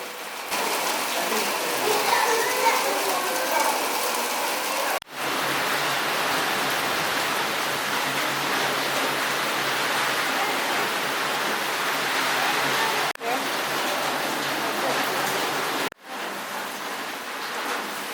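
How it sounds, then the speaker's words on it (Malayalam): Steady rain pours down at Kakkadampoyil hill station as mist clears, a loud, dense, continuous hiss of falling water with brief dips, no voices. "മഞ്ഞ് മാറി മഴ പെയ്യാൻ തുടങ്ങിയിരിക്കുന്നു"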